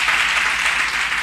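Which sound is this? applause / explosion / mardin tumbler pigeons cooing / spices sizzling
applause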